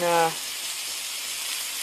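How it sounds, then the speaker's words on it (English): Sausage frying in a pan, sizzling as a steady broadband hiss that holds evenly for under two seconds after a brief tonal sound at the start. "I didn't put enough sausage in the cabbage, so I'm just frying some of that up"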